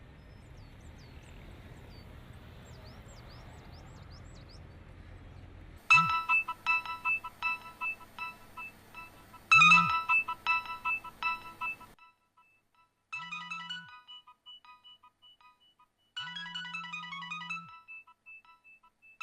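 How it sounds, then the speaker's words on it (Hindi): A faint murmur gives way to a loud electronic phone ringtone playing a repeating melody in bursts, with short pauses between rings. "तुम्हारा फोन बज रहा है"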